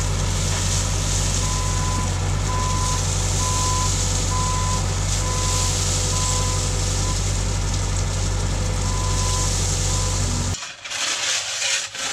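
A bucket loader reverses while moving limestone in a hay barn, its engine droning loudly and steadily beneath an evenly spaced series of backup beeps, then the engine noise cuts away abruptly near the end.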